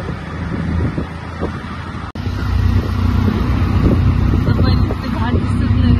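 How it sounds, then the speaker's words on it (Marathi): A motorbike ride on a road with strong wind buffeting the microphone, a continuous low roaring rumble with no breaks, fairly loud and steady throughout. "बाईकचं वातावरण"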